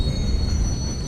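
A train rumbles past in a video game, a steady loud roar with a thin high squeal on top, no talk.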